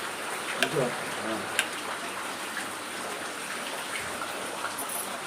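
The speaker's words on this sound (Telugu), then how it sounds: "భలే మంచి వర్షం" Steady, dense patter of rain falling, close and continuous, with a voice briefly speaking near the start.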